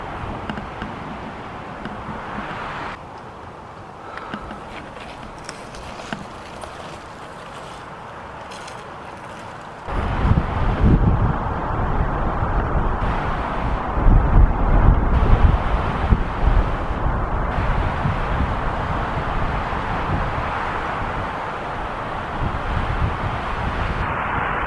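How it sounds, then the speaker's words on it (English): Strong gusting wind outdoors in the Colorado hills buffets the microphone, first as a moderate rush, then much louder and rougher roaring gusts for the rest of the stretch, with no voices. "All this wind."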